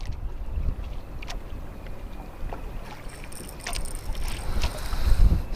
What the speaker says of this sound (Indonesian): Anginnya semakin kencang ini kawan.